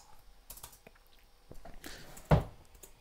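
Sparse, soft clicks of typing on a computer keyboard, a few light keystrokes then a louder tap near the end, quiet and close with no voices.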